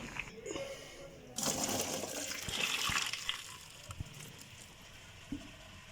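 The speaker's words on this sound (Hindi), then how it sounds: "Now I'm going to strain it and putting cold water on it." Cold tap water gushes over strained spaghetti, a sudden broad rushing splash that starts after a quiet moment and keeps running, with a few small clinks from a colander or pot.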